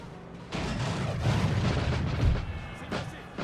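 Artillery fire in the Napoleonic battle game Napoleon Total War, heard as a steady roar of booming cannon and musket fire, with a faint voice underneath.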